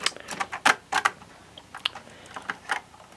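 Someone types on a replacement keyboard for a Tandy 1000 SX computer, producing irregular clusters of sharp, close clacking keystrokes with brief pauses and no talk.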